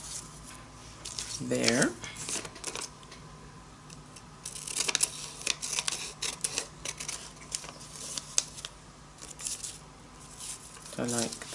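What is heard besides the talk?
cutting off a piece of a journal page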